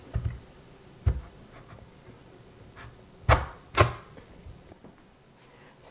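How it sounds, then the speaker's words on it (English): A knife splits a winter squash in half, giving a few sharp, separate cracks and thuds against a cutting board, with quiet pauses between the cuts. "Even more carefully, cut them in half vertically"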